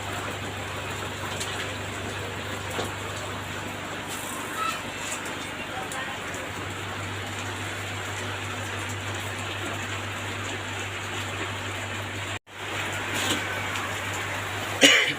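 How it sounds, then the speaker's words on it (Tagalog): Steady rain falling outside during a rainy-day fiber internet installation, a constant soft hiss under occasional coughs and throat clearing, with a brief cut near the end. "Wala, hindi talaga tumigil yung ulan."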